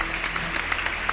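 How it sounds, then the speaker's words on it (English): A canned round of applause played from a soundboard during a talk show, a steady, moderately quiet wash of clapping with a faint low hum beneath it. "let's give us a little round of applause as soon as I find it here"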